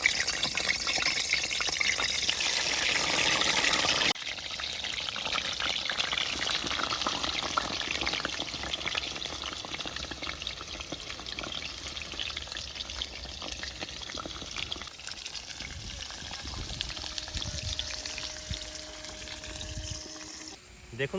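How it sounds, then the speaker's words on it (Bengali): Potatoes go into moderately hot oil for a village-style biryani cooked outdoors, giving a loud watery pouring rush at first and then a continuous softer sizzle and crackle that runs on steadily. "তেল মোটামুটি একটু গরম হয়ে গিয়েছে এরপর আলুগুলো দিয়ে দিচ্ছি দেখুন"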